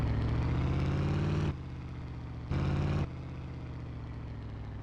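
A steady, rumbling truck engine idles and hums in a railroad game, shifting in level twice, heard alone without talking.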